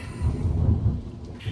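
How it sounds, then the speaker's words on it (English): Thunder rumbles steadily through a thunderstorm, a deep, rolling low roar that swells and fades over a second and a half with no voices present. "we are currently experiencing a thunderstorm"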